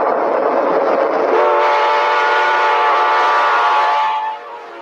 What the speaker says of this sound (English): Amtrak's F40PHs came equipped with either a Nathan K5LA or P5 series air horn.